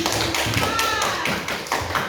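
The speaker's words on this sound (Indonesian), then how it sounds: "tepuk tangan dulu" Classroom pupils clapping hands in a lively, slightly uneven rhythm, close and fairly loud, with children's voices chattering underneath.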